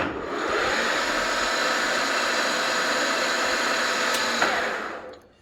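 A steady, loud mechanical whir of a well-used, Japanese-made high-speed metal lathe from Nagoya, rated up to 2000 rpm, broadband and constant, with a brief click near the end before it fades out.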